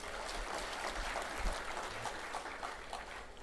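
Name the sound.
applause in church service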